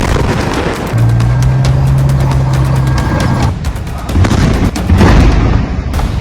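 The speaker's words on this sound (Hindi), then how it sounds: "इजराइल का तोप से हमला।" Israeli tank cannon fire during fighting in Gaza, loud booming blasts and rumbling over a dense, noisy background, with sharp repeated cracks toward the end.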